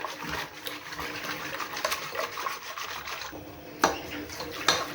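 Vanilla, flour, sugar and water are stirred by hand in a bowl, a soft continuous scraping and swishing close up with a couple of sharper knocks near the end.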